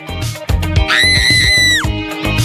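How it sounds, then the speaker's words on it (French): A high, sustained scream of fright rings out over a music-backed Halloween prank scene, loud and close, lasting about a second. "Et on attend avec plaisir les cris de terreur."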